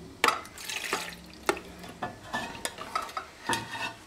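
A spoon scoops pan juices from a roasting pan into a gravy separator, giving a series of sharp metallic scrapes and clinks at irregular intervals, with soft liquid sounds and faint sizzle between them.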